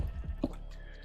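A single Minecraft sheep bleats once, brief and fairly close, over a low background hum with no talk.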